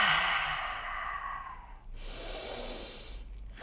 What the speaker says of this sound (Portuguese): E vou respirando.